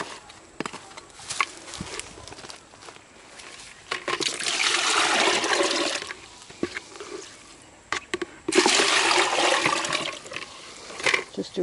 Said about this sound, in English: Just doing a swish out of the bowls there.